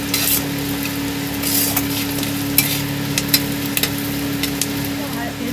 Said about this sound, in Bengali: এখানে আমি দিয়ে দিচ্ছি কারি পাতা, 2টো কারি পাতার ডাল দিয়ে দিলাম এখানে।